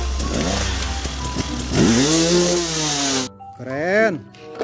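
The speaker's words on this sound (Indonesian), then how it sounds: "Motor cross." A buzzing toy motocross bike engine revs and whines steadily, rising in pitch, before a brief spoken phrase cuts in at the end.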